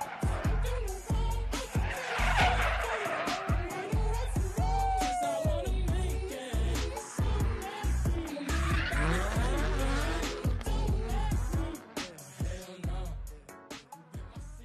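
Several drift cars at a night event slide with loud, sustained tire squeal and revving engines, their screeches rising and falling continuously throughout.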